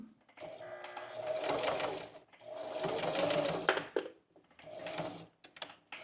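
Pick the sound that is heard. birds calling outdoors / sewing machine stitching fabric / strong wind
sewing machine stitching fabric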